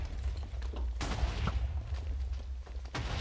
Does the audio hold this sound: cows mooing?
no